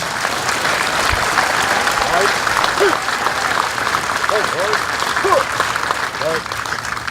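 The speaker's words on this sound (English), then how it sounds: "let's give our awardees a round of applause" An audience at an army Basic Camp graduation ceremony (4th Regiment, 2017) applauds its awardees with a sustained, loud wash of clapping, joined by scattered whistles and cheers.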